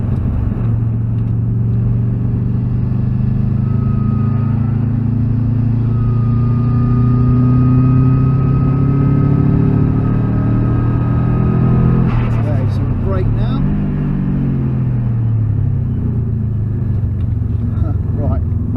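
A car engine drones loudly and steadily on a race track lap, pitch rising as it accelerates in third or fourth gear, then dropping sharply near the end as it shifts or brakes.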